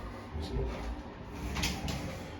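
A newly fitted cupboard door with a magnetic catch, built by a tradesman, is opened and shut, giving a few soft knocks and a light click against a low background hum.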